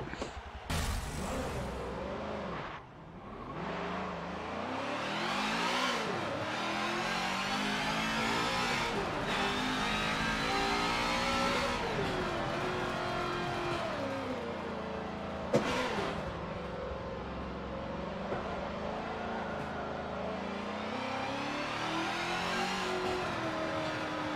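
A touring race car in Forza Motorsport 7 revs hard with a rising, falling engine note through repeated gear changes, loud and continuous with a sharp shift blip near the middle.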